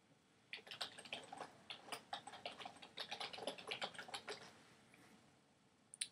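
Quiet keystrokes tapped on a computer keyboard in short irregular bursts with brief pauses, close and alone.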